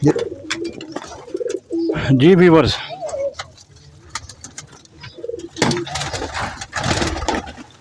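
Pigeons in a breeder setup coo in low, throaty warbles nearby, mixed with rustling and fluttering, while someone talks briefly over them.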